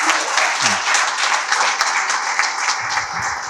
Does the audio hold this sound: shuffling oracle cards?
no